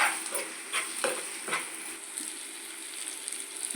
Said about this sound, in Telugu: కలుపుకుందామండి బాగా కలుపుకుందాము